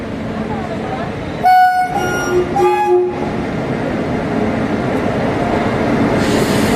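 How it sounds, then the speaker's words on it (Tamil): A departing train's horn sounds in a few loud, steady blasts over the continuous rumble of a rail car at Tiruchirappalli Junction, then the rolling noise carries on. "பின்னாடி ஒரு ட்ரெயின் புறப்படுச்சு, ட்ரெயின் பார்க்கலாம்."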